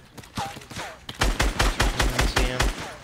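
Rapid bursts of gunfire from the Fortnite battle royale game, loud and close, with a short volley early then a steady run of evenly spaced shots for the last two seconds, under faint background game sounds.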